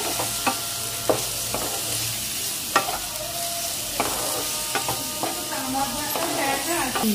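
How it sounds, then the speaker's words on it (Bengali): Spice masala with a splash of water fries in a pan for Bengali chicken keema ghugni, sizzling steadily while a spoon stirs and scrapes the pan in repeated strokes. "দিয়ে অল্প একটু জল দিয়ে নেব মশলার উপর, দিয়ে এটাকে ভালো করে কষাতে হবে।"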